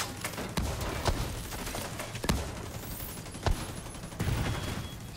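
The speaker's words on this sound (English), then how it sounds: "Yeah, I'm shooting him." Gunfire in the video game The Division 2 during a Tidal Basin legendary mission, sharp shots cracking at irregular intervals over a busy game backdrop with no talk.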